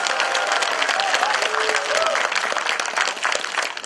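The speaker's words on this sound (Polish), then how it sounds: "Tak, kochani, wielkie brawa." Senior singers' festival audience clapping, a dense sustained round of applause from a crowd in a hall, steady and loud before tapering slightly at the end.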